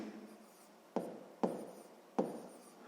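Pen strokes on paper while working a sixth-grade math exercise, with three short scratching marks close by, each a sharp start that fades, set against quiet room tone.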